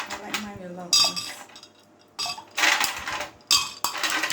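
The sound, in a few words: stirring apple cider drink with lots of ice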